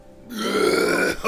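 One loud, drawn-out burp after drinking Sprite, starting abruptly and rumbling close for about a second before trailing off.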